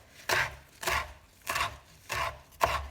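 Red garlic cloves are crushed with five evenly spaced firm presses, each a close, dull crunching thud with a brief grinding scrape, quiet and alone.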